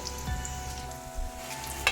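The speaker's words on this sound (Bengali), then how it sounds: "এবারে আমি চালটা দিয়ে দেবো" Rice tipped into a pan of raisins frying in hot fat for Basanti pulao sizzles steadily throughout, close and moderately loud, with a few soft scrapes and a brief clatter near the end.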